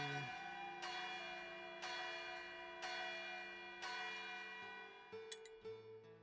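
A church-style bell tolls five times at roughly one-second intervals, each strike ringing out loud and sustained over a steady hum, with a few fainter, higher chimes near the end.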